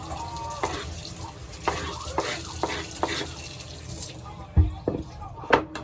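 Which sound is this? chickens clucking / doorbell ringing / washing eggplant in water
washing eggplant in water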